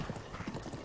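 A brief burst of rhythmic hoofbeats from a galloping horse in Zelda: Breath of the Wild, quick and fairly muffled, lasting under a second.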